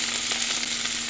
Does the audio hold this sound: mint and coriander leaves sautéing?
yes